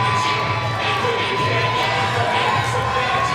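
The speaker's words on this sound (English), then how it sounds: "Crowd going wild for Pretty Papi" A wrestling crowd cheering and shouting for the wrestler Pretty Papi, a dense, loud, continuous roar of many voices with whoops, filling the whole moment.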